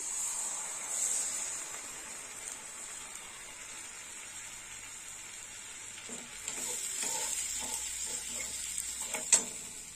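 Whisked yogurt poured into pointed gourd (potol) frying in a pan, a steady soft sizzle with light stirring and scraping, a few clinks of a utensil near the end.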